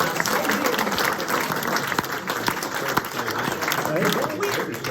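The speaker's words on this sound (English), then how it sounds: "Let's give him a big round of applause." Audience applause at a Wayne Hoffman show at MIT: a dense, steady wash of many hands clapping close by, holding loud and even for the whole stretch without a break.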